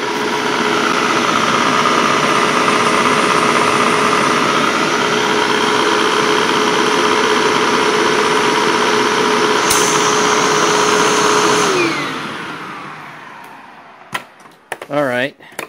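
A Clean Air vacuum cleaner with its bag installed runs with a loud, steady, close whine for about twelve seconds, then winds down and stops, followed by clattering handling noises.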